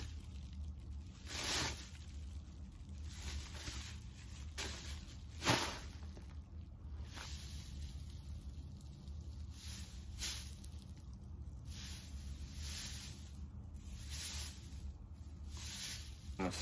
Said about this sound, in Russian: Полиэтилен.